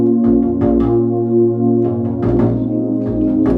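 A loud hip-hop beat built live from scratch, with a deep, steady acoustic bass line under punchy drum hits that land in a regular rhythm, playing continuously with no voices.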